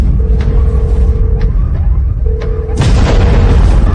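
A loud, deep explosion booms close by under a steady rumble, and a bright burst of crackling debris follows partway through. A siren-like tone wails briefly before it.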